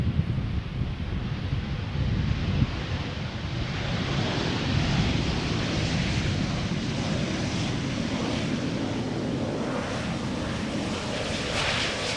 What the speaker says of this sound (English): This is KLM Flight 1174, arriving from Stavanger, Embraer 190